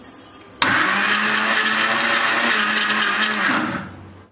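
A kitchen mixer grinder kneads dough for puri and chapati, its motor switching on abruptly into a loud, steady whirring drone that runs for about three seconds before winding down.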